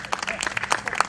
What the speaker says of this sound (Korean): 제일 큰 박수를